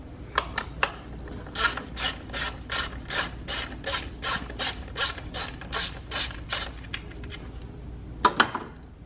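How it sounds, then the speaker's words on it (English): A hand ratchet works a number 10 bolt loose on a Hyundai Sonata Hybrid engine during ignition coil replacement, with a brisk run of sharp, evenly spaced clicking strokes, a pause, then a few final clicks, close and clear. "to be able to remove this, we got to remove this number 10 bolt."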